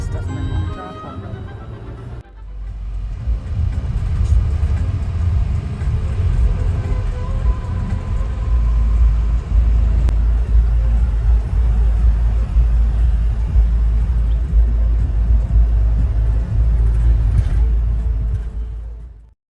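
A car drives on a road outside Paris near Charles de Gaulle Airport, its steady low engine and road rumble filling the cabin throughout, with people talking inside over it.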